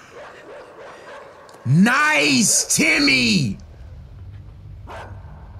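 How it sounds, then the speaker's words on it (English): A dog in the video game Inside barks twice in quick succession, loud and close, followed by a fainter yelp, while someone talks before and after. "Oh, there's another dog."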